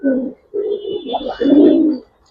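Pigeon from a colour-breed farm cooing close by, two or three loud, deep rolling coos in quick succession, clear and alone.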